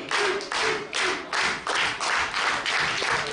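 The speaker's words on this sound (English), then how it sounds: "Crowd trying to show their support for Arik Royal." A pro wrestling crowd claps in a steady, rhythmic unison beat to rally behind wrestler Arik Royal, about seven even bursts of clapping that sound fairly close, with no talk over them.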